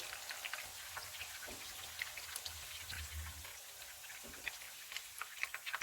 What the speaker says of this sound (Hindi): कबाब सारी साइडों से फ्राई हो गए